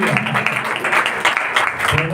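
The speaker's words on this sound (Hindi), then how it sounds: "जितने आनंदित हैं वो खुशी से ताली बजाएंगे।" A church congregation clapping joyfully during a worship service, dense sustained applause filling the space with steady uneven rhythm, loud and close, with voices mixed in underneath.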